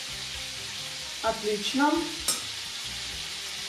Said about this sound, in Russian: Рыбка обжаривается под крышечкой 7 минут.